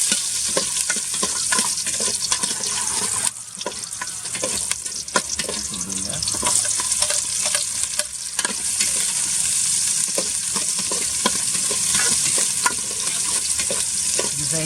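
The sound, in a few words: sautéing garlic and ginger in a pan for mung bean stew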